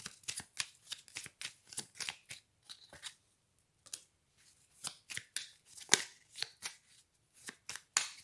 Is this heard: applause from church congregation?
no